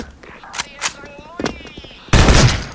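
A POSEIDON KRISS submachine gun fires in the Special Force shooter game: a few sharp shots spaced apart, then a loud, dense close-range burst at the end.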